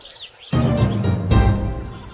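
Birds flying high overhead chirp briefly, then two loud rushing swells sweep through, close and full, with no voices.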